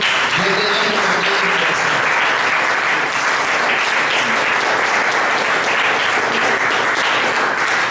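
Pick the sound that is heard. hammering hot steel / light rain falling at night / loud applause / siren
loud applause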